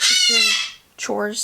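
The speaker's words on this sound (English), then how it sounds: "If you hear a bird squawking, it's our bird in the front room." A pet bird in a household front room gives loud, harsh squawks, one long burst and then another after a brief pause, with a few quiet spoken words from a person.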